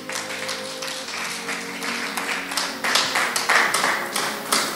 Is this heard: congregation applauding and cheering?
yes